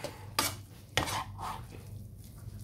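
Utensil scrapes and taps against a bowl as seasoned rice for sushi is stirred and mixed, two sharp knocks then softer scraping, close and quiet.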